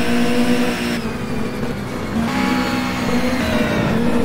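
A racing car in rFactor drones steadily around the Nürburgring, its engine note holding a continuous tone with slight pitch shifts as it runs, loud and close with no talk.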